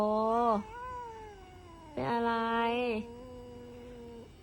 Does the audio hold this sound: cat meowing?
yes